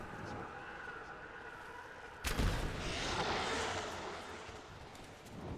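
Gunfire in the video game Rise of the Tomb Raider, a sharp loud blast that breaks out suddenly partway through, followed by a rumbling, noisy wash of shots and echoes over steady background ambience.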